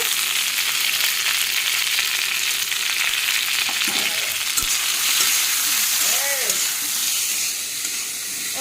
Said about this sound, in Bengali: দিয়ে দিই তেল দিয়ে সবজিগুলি সব সবজি বেজে নেব